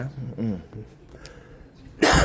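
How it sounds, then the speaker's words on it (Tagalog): A single loud, harsh cough bursts out near the end, following a stretch of quiet speech. "Inuubo kasi ako, sorry."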